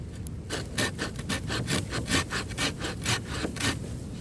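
Hand saw cutting through an oak log outdoors, a rapid series of rough rasping strokes, close and fairly loud, with about a dozen pushes and pulls.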